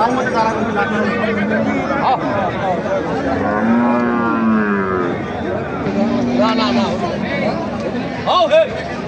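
Cattle, including dairy cows and calves, moo loudly and repeatedly over a busy murmur of people talking at a crowded livestock market in Raniganj.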